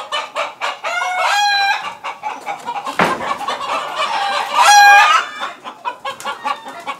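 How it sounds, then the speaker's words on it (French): Free-range village chickens roam a seminary yard in Benin, with several hens clucking nearby, overlapping calls and a loud rooster crow rising near the end, plus a brief sharp knock midway. "De l'autre côté aussi, on en trouvera beaucoup qui circulent dans la cour."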